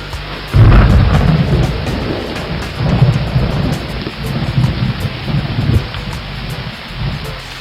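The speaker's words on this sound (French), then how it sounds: "Pour de nouveau remonter dans les nuages et retomber en pluie sur le ruisseau." A thunderstorm over a stream: heavy rain hisses steadily while a loud, close crack of thunder breaks out early and rolls on in deep rumbling waves that swell and fade, with no voices.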